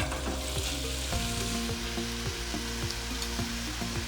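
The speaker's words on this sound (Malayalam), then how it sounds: "ഈ ഉള്ളി നമുക്ക് നന്നായിട്ടൊന്ന് വഴറ്റിയെടുക്കാം." Sliced onions sautéing in hot coconut oil, a loud continuous close-up sizzle with frequent crackles and the scrape of stirring, and no talk over it.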